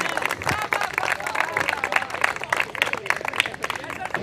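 Applause from the audience at an Urdu poetry gathering (bazm-e-shairi) honoring poet Qaisar Wajdi, scattered clapping mingled with crowd murmur and a speaking voice throughout.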